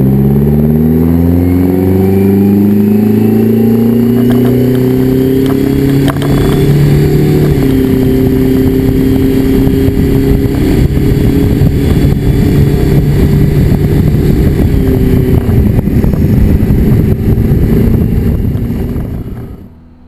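A Detroit 4-53 turbo diesel truck engine with a failed blower bypass valve runs steadily at close range, a loud continuous low drone with a throttle blip partway through, and no voices.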